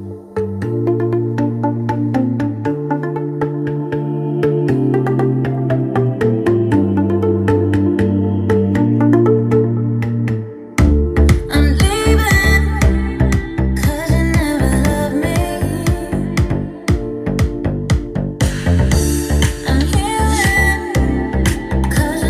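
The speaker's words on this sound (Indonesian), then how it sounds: "tadi itu adalah suara untuk lagu kita putar lewat USB portnya" A song plays from a USB port through a small meeting sound system with a power mixer and speakers, starting with a steady sustained melodic intro and then shifting into a loud, full, rhythmic section with punchy beats. No one talks.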